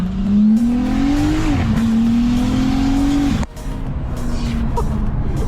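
BMW 335i with an N54 single-turbo engine and DCT transmission accelerating hard as boost builds, a loud rising engine drone through the gears with a brief dip at a shift, heard from inside the car without talk.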